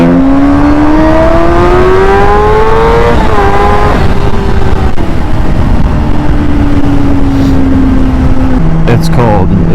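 A motorcycle rides a road in cold weather in North East Ohio, its loud engine climbing and dropping in pitch through gear changes under steady wind rush, with a brief drop near the end.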